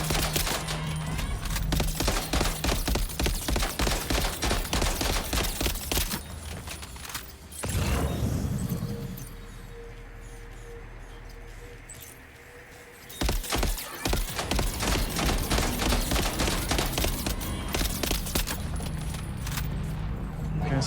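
Assault rifle fire in Death Stranding 2, loud sustained bursts of rapid shots near the start and again later, with a quieter stretch between them.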